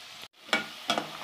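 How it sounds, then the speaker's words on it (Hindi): Gram flour fritters (godre) frying in hot oil give a steady, close sizzle, with two sharp bursts of spitting as they are turned or stirred. "तो हम इनको फ्राई कर लेते हैं।"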